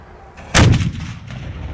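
A historic muzzle-loading cannon at Hensley Settlement fires once with a single loud, deep boom that rolls off into a lingering rumble, heard from close range outdoors.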